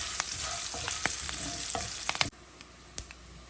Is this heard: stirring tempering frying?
yes